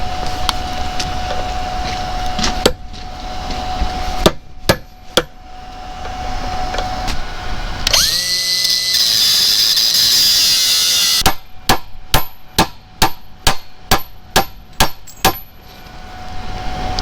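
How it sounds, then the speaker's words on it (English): Sharp, ringing hammer blows striking a chisel to split a Ford 8N tractor's ring gear, heard as scattered hits followed by a quick rhythmic series of about ten loud metallic strikes, with a harsh grinding-like burst in the middle. "I cut a slit down it and then drive the chisel through, and that should cause the ring gear to crack and then loosen off"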